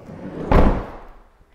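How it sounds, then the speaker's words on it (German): An electric vehicle door shuts with a single solid thud close by, followed by a short fading rumble and near silence. "Das war übrigens eine elektrische Tür."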